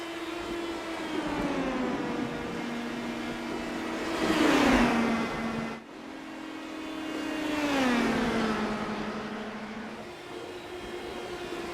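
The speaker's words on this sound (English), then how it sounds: "there's a car coming out of the pits" An IndyCar race car in a racing video game pulling out of the pits at Iowa, a steady engine whine rising and falling in pitch as it shifts through gears, moderately loud and alone.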